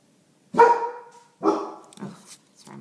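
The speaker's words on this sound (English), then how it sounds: "my dogs are barking about something." Several dogs bark at home, a few loud, sharp barks spaced about a second apart, with a quieter follow-up bark trailing at the end.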